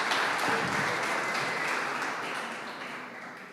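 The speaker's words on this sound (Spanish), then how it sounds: "Vamos a darle un aplauso a la presencia de Jesús con nosotros." Church congregation applauding during a service, a dense, continuous wash of clapping that fades gradually toward the end.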